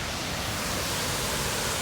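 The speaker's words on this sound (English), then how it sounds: "Ladies and gentlemen, watch this waterfall." Düden waterfall in Antalya roars as a steady, dense wash of falling water, loud and constant with no other sounds.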